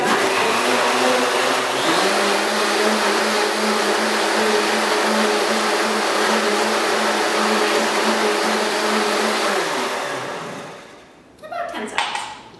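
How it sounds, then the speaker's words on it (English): A kitchen blender runs steadily for about ten seconds, whirring almond milk with maple syrup and honey, loud and close, then winds down and stops, leaving a few light clinks and handling noises. "Now all we need to do is blend that together."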